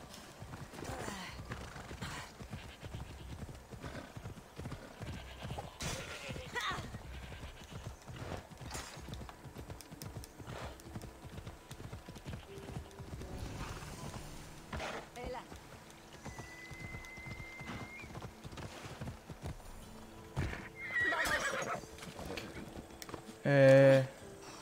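A horse in Assassin's Creed Odyssey gallops with steady clip-clopping hoofbeats for most of the stretch, followed by a loud neigh near the end, under someone talking.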